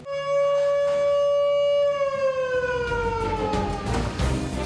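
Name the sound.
emergency siren sounding inside a military base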